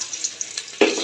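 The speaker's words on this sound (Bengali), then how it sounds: "পেঁয়াজটিও ভালো করে ভেজে নিই।" Oil with bay leaf, cardamom and cinnamon sizzles softly, then chopped onion goes into the pan with a sudden louder burst of frying that keeps sizzling.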